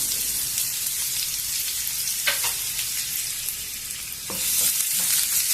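Green chilies, onion and curry leaves sizzle in hot oil with cumin and mustard seeds, a steady close frying hiss broken by a few stirring scrapes and pops.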